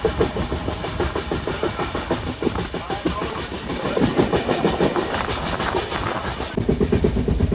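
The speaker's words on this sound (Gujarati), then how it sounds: "ફાઇનલી ટ્રેન ચાલુ થઈ ગઈ છે" A passenger train from Mumbai to Kutch rolls along the rails, heard from on board as a continuous loud rumble with a steady, rhythmic clickety-clack of the wheels.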